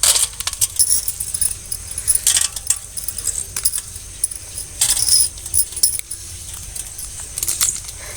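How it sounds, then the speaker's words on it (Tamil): Roasted chana dal is crushed by hand, giving irregular crisp crunching and rattling clicks in close, uneven bursts with no talking. "இப்போ நம்ம இந்த கடலப்பருப்பை நுணுக்கிக்கலாம்"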